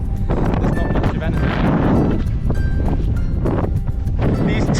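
Strong gusting wind buffets the microphone on an exposed hilltop during a trail run, a loud continuous roar with surges, while a voice speaks faintly underneath.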